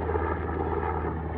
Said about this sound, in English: You guys know what helicopter this is?